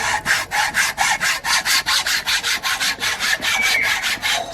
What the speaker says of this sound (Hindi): स्टील काटने वाली आरी से असद साहब जो है लकड़ी काट रहे हैं।